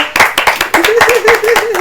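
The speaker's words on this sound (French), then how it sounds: "On applaudit quand même pour la sœur, non?" Audience clapping in a church or gospel singing gathering, rapid and fairly loud across the whole moment, with a sustained sung or hummed voice rising over the applause in the second half.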